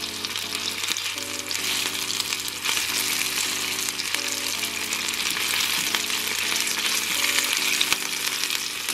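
Food frying in a pan, a steady dense crackling sizzle that holds evenly throughout, close up with a low background hum and no one speaking.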